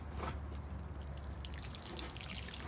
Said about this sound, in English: What we're gonna do is just gonna water it, and we should be good to go.